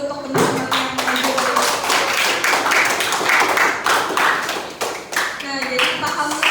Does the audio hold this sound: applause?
yes